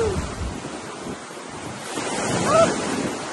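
Strong ocean waves surge and crash on a beach at Entalula Island, El Nido, Palawan, a steady loud roar of surf swelling toward the end, with heavy wind buffeting the microphone.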